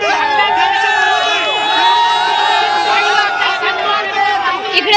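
A large crowd cheers and whoops at a Rahul Gandhi event in Pune, with loud, continuous massed shouting and excited voices close by.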